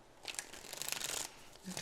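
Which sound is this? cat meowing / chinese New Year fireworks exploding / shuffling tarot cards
shuffling tarot cards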